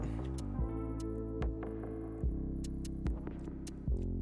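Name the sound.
welding pipes in the video game Stationeers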